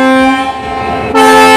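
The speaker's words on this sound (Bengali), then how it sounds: "তো গাইজ এখন হর্ন দিয়ে দিল" A train horn sounding at Bamanhat station just before departure: one loud, close, sustained blast with a steady tone that briefly dips and then swells again at the end.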